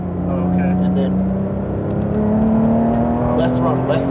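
A Porsche GT3 RS engine held on throttle at the Speedvegas track, a loud, steady high-revving drone with its pitch rising slowly while a voice talks over it.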